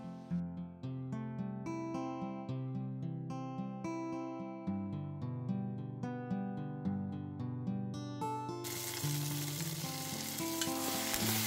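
Food with torn kaffir lime leaves is turned over in a hot pan. Melodic background music dominates at first, then a loud, steady broadband sizzle takes over near the end.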